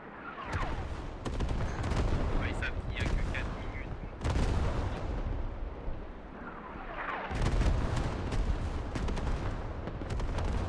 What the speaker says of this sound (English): This is a barrage that is directed to the flag.